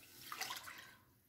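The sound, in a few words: pouring water into a saucepan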